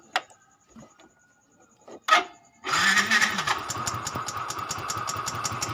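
A Yamaha Fino 125cc motorcycle engine, one that sounds rough, fires after a few faint clicks and a short crank, then settles into a steady close idle with a fast, regular ticking pulse.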